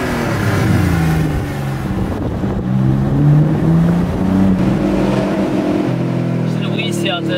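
An Alfa Romeo GT with the 3.2 V6 Busso engine pulls hard under acceleration, its deep exhaust note rising and holding loud and close, while someone talks over the engine.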